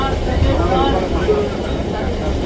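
Howrah–Bardhaman super local train running on the chord line, a steady loud rumble of wheels and carriage noise throughout with faint onboard voices mixed in.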